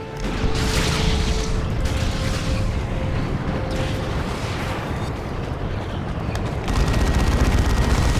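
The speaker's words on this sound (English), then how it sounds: "There's that Venom Cannon." Heavy booming blasts from a Tyranid Venom Cannon in Dawn of War 2: Retribution, a loud, dense barrage of rumbling fire with a sharp surge near the end amid battle noise.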